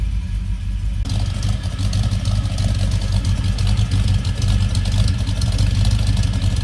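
A Ford Ranchero engine idles at its first start of the year with a steady low rumble throughout, holding an even, constant drone without revving.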